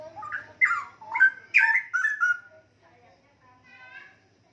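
A straw-headed bulbul (cucak rowo) sings close by, a run of loud, rich warbled whistles over about two seconds, then a softer, quieter phrase after a short pause.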